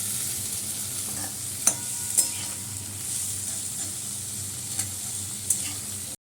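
Potatoes fry in a pan with salt, giving a continuous hiss of sizzling oil with a few sharp utensil taps and scrapes standing out near the start and end.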